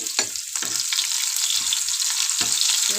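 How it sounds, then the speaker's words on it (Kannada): Onions frying in hot oil for a tempering, an even crackling sizzle with a few soft spatula knocks against the pan, close and steady over three seconds. "ಈರುಳ್ಳಿನ ಸ್ವಲ್ಪ ಫ್ರೈ ಮಾಡ್ಕೊಳ್ಳೋಣ"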